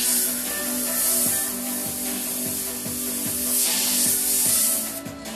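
An airbrush sprays paint onto a hat for graffiti-style art, giving a steady, loud hiss throughout, with a regular low thumping pulse underneath, likely from the air supply.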